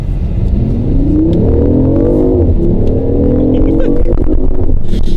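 A BMW i8 accelerates hard from standstill, its engine note climbing steadily in pitch through a rising whine and rumble, loud and close from inside the car.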